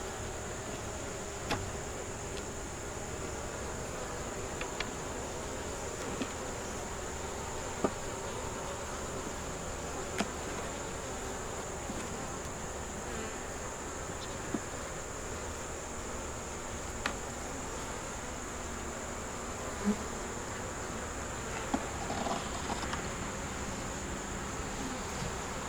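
Honey bees buzz steadily in an open beehive holding brood, larvae and honey, making a continuous, even drone with a few faint clicks and knocks from handling, and no voices.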